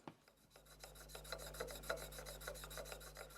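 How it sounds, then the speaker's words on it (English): Diamond file rasping over the sharp edges of a Lie-Nielsen block plane part, a quick run of about fifteen short, even strokes, close and crisp, with no voices. "I removed any sharp edges with the diamond file and the deburring tool"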